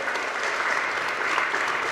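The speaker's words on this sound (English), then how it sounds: "maybe we should have one thunderous round of applause just to relax the teams out here" Dense, steady applause from a school quiz competition audience, a thunderous round filling the hall evenly without pause.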